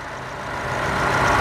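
A used Mazda 323 car engine idles steadily and smoothly, a close, even hum that grows slightly louder over its short span.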